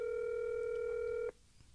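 A telephone sounds a steady, loud electronic dialing tone for just over a second, then cuts off abruptly, leaving quiet room noise.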